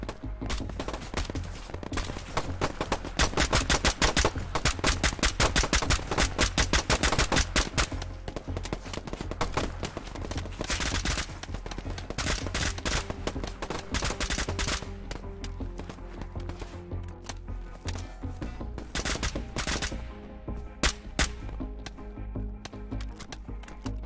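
Rapid gunfire in the video game Operation: Harsh Doorstop: dense, loud bursts of automatic and single shots crackle almost nonstop for the first dozen seconds, then thin into scattered, more spaced volleys.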